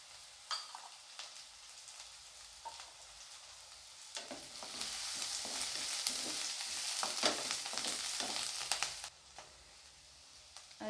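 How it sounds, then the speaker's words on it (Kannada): Garlic and curry leaves fry in a pan with quiet, crackling sizzles, punctuated by soft stirring scrapes that grow busier midway, with no one speaking. "ಬೆಳ್ಳುಳ್ಳಿನ ಫ್ರೈ ಆಗಲಿ"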